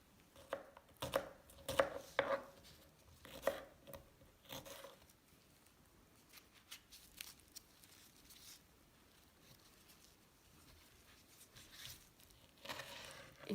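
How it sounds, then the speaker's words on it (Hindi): A knife chops fruit, including seeded fruit and honeydew, on a board for fruit chaat: a burst of crisp, irregular close chops for several seconds, then softer scattered cuts and handling noises, with a final cluster of chopping near the end. "इनको काटना है।"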